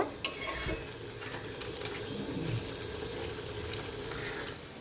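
Beef bones, cabbage and potato frying in a pan while being stirred, with a steady sizzle and scraping strokes throughout and a sharp clink near the start.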